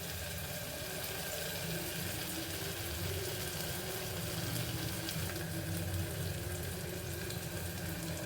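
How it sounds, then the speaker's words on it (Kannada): Ginger garlic paste fries in oil for tomato bath, a faint, steady sizzle heard close and continuous throughout, with no voices. "ಈಗ ಶುಂಠಿ ಬೆಳ್ಳುಳ್ಳಿ ಪೇಸ್ಟ್ ಕೂಡ 1 ನಿಮಿಷ ಆಯಿಲಲ್ಲಿ ಸ್ವಲ್ಪ ಅದು ಫ್ರೈ ಆಗಬೇಕು"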